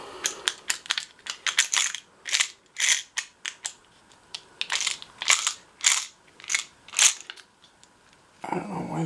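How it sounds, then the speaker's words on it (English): Small screws being driven in to fasten a cover: a close series of quick metallic clicks and ratcheting ticks in irregular bursts, followed by a brief rustle at the end. "I'm just gonna quickly put in these little screws that are supposed to go in to hold this cover on"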